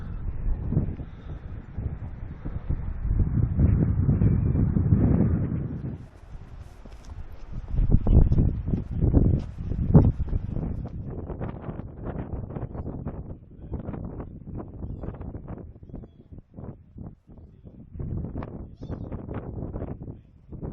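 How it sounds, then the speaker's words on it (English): Strong wind buffets the microphone in heavy, rumbling gusts near Lindisfarne Castle on Holy Island, England, rising and falling throughout, loud and close, with no clear voices. "It's very windy around here."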